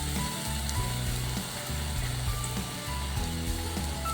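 A vada coated in besan batter frying in hot oil gives a dense, steady sizzle that sits over a repeating low background drone.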